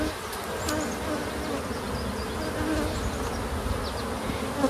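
Honeybees at an open beehive during swarm-prevention work make a dense, continuous buzzing hum with individual bees passing close by, and no talk over it.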